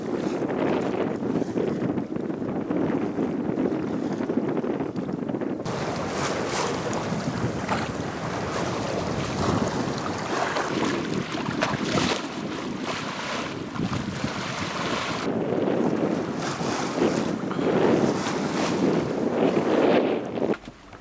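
Steady wind and water noise aboard a sailboat tacking under sail in about 10 knots of wind at roughly 5 knots, a continuous broadband rush that swells and eases, with no talking.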